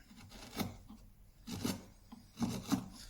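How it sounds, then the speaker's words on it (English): A very sharp chisel pares a chamfer around the edge of a wooden stool part, giving three quiet, short scraping cuts with brief pauses between them and no voice. "let's put a chamfer around there. With a very sharp chisel."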